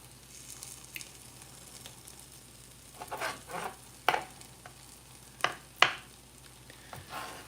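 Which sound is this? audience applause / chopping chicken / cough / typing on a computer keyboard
chopping chicken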